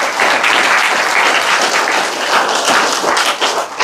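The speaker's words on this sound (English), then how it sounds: "Give him a round of applause." An audience applauds a young autistic cookie-company founder at a kindness award event, steady, full clapping throughout, close and loud.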